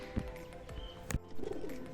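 Kalshira pigeons standing in a loft, giving a few low soft coos and short wing-flutter sounds, close by, with faint chirps in a quiet background.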